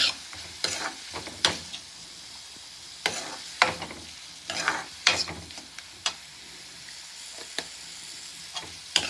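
Asafoetida frying in hot oil for moong dal, a low continuous sizzle broken by repeated sharp scraping stirs of a spoon against the pan, close and alone.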